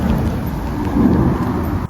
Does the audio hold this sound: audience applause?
no